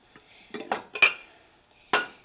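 Bowls and dishes are handled in a kitchen while a salad is made with chopped tomatoes, fruit and vegetables, giving a few separate clinks and knocks, with a last clear clatter near the end and no talking.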